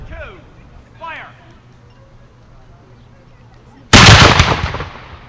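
A historic cannon fires once at the Fort Malden Living History Festival in Amherstburg, Ontario, a single loud, sharp boom with a rumbling tail, after a voice calls out commands.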